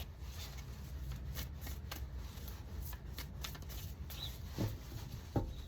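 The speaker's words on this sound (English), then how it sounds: "I'm going to cut the deck." A tarot deck is shuffled close by, with soft repeated riffles and card flicks at a quiet, even level and a couple of sharper taps near the end.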